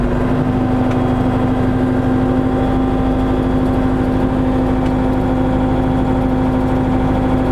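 A tractor engine runs loud and close at steady speed, a constant droning rumble with a strong steady tone and no change in pitch throughout.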